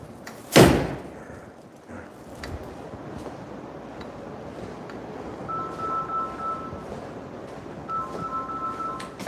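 A car door slams shut with a single sharp, heavy thud close by, followed by quiet cabin ambience and faint electronic chimes.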